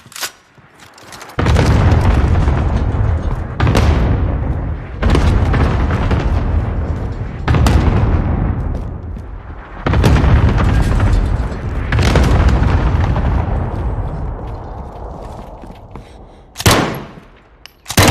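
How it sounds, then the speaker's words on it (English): Cluster strike explosions in Call of Duty Warzone land as a series of heavy, loud booms roughly every two to three seconds, each rumbling out before the next, ending with a final sharp blast. "Enemy cluster strike incoming."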